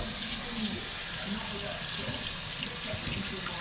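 Kitchen faucet water pouring into a sink during dishwashing, a constant broad rushing splash with occasional small knocks, moderately quiet and unbroken, with a voice faintly underneath.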